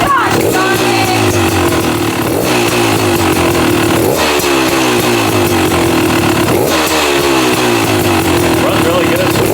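A Beta XTrainer 300cc two-stroke motorcycle engine idles and runs loud and close, a steady buzzing drone with rhythmic pulses recurring every couple of seconds.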